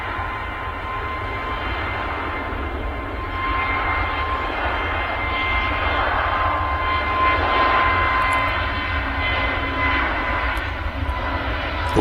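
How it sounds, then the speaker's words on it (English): An airliner with LEAP-1A jet engines at Manchester Airport gives a steady, loud engine roar that builds slightly and holds for the whole stretch, with no talk over it. "A lot of noise there from them Leap 1A engines."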